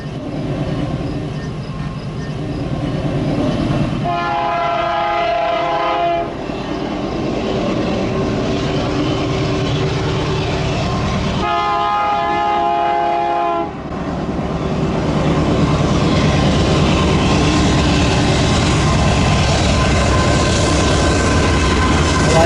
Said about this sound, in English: Oh, hearken. Train time in Plunkett.